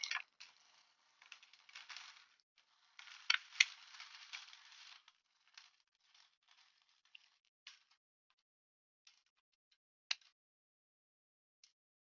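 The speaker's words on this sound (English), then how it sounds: "I'm going to pour the glass into this dish." Crushed glass poured into a leftover Chinese food container gives a dense burst of crisp, tinkly rattling over the first few seconds, then scattered small clinks and ticks that thin out into near silence.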